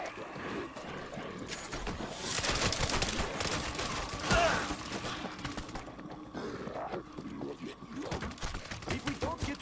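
Bursts of automated turret gunfire in the zombie shooter World War Z, set in Rome, rattle in rapid volleys alongside grunts and game sounds, loud and dense in the middle and more scattered toward the end.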